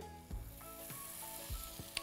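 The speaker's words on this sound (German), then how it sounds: "Ohne Öl, es hat genug Öl in der Marinade und rundherum 1 Minute lang anbraten." Marinated tempeh kebabs sizzle as they fry in a pan without added oil, a steady close crackling hiss broken by a few soft knocks as the skewers are moved.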